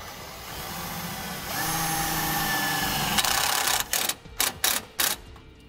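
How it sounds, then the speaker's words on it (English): Power drill driving a self-tapping screw into the core support of a 2018 Honda Odyssey, a steady whirring buzz that rises in pitch, then several short sharp bursts as the screw seats. "we can take one of the self-tapping screws and I'm just going to go right into the core support here"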